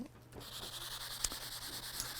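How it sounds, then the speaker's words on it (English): Steady, soft scratchy rubbing of hand sanding with a foam sanding block to remove glue residue, close up and continuous, with a light tap partway through. "So we're just sanding here to get all the glue residue off."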